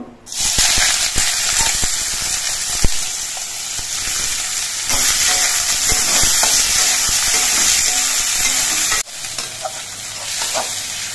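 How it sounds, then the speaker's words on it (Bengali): Chopped onions fry in hot oil in a wok with a loud, steady sizzle and hiss, broken by scraping stirs of a spatula, close and continuous with no talk. "আমি পেঁয়াজগুলো কড়াইয়ের মধ্যে নাড়াচাড়া করে 3-4 মিনিটের মতো ভেজে নিয়েছি।"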